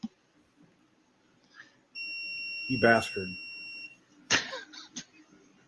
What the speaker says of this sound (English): both motors are beeping